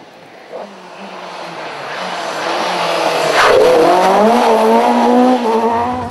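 Rally cars, including two-wheel-drive Ford Escorts, drive and slide on a stage at the Chris Kelly Memorial Rally 2013, with engine revs climbing and falling and tyres scrabbling as one car approaches loud and close.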